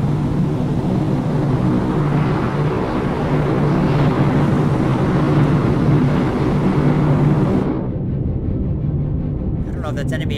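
Aircraft engine noise in the submarine game Cold Waters: a loud, steady broadband drone with a low hum, cutting off abruptly near the end.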